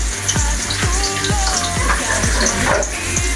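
Fish frying in a home kitchen gives a steady bright sizzle, with a row of regular low thumps, about seven in quick rhythm, running under it.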